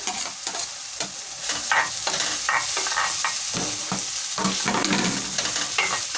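Eggs stirred into a tomato stew frying in a pan, a steady sizzle broken by repeated scraping strokes of the spoon, close and fairly loud throughout with no talk.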